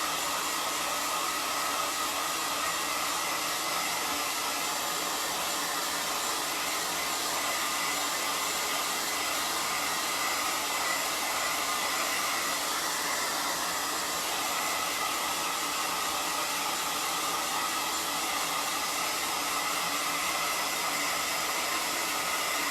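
A hair dryer blows continuously and steadily at close range, a loud, even whoosh with no talking.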